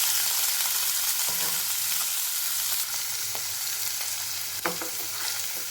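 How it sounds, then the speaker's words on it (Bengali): Paneer pieces fry in hot mustard oil, producing a steady, fairly quiet sizzle with faint crackles and occasional stirring clinks; no one speaks. "এখন আমি পনিরের টুকরোগুলোকে তেলের মধ্যে দিয়ে ভেজে নেব।"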